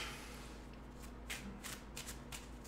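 A deck of playing cards is shuffled close up in a few quick riffling bursts, crisp flutters over a low background hum.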